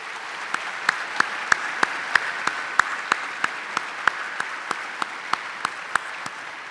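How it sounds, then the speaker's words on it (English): Sparse, evenly spaced claps ring out at a Medal of Valor ceremony honoring service recipients, crisp individual hits at a steady pace over a quiet hall. "How about another round of applause for all of our recipients?"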